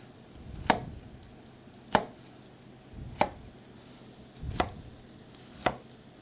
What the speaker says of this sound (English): Now I'm going to slice down